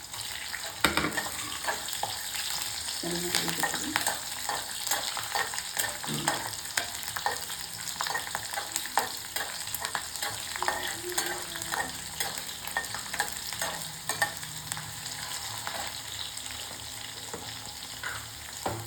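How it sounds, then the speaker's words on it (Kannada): Garlic sizzles and fries in a pan for a sorrel leaf chutney, with a soft steady crackle and occasional stirring clinks, no voices. "ಈ ಸಮಯದಲ್ಲಿ ನಾನು ಬೆಳ್ಳುಳ್ಳಿ ಹಾಕ್ತಾ ಇದ್ದೀನಿ."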